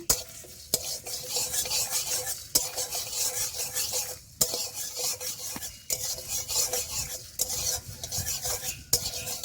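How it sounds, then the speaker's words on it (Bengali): Fennel seeds stirred in a hot pan for a raw mango pickle, giving a steady scraping stir with light sizzling and sharp utensil knocks against the pan every couple of seconds, close and alone. "মৌরিটা একটু নেড়ে ছেড়ে"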